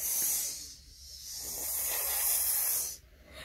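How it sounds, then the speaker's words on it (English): Loud, breathy hissing of a king cobra at a game night, a steady rasp lasting about three seconds before it briefly drops away near the end. "King Cobra's hissing loudly."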